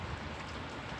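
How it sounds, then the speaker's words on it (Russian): A short, steady hiss of wind-blown raindrops patters just outside a wide-open balcony, soft and even throughout with no voices. "Относит ветер дождик капли"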